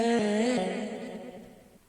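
A vocal chop processed with a granular crystallizer effect on its default preset, a shimmering, granular texture, a sustained pitched tone that stutters and smears, fading out over about two seconds.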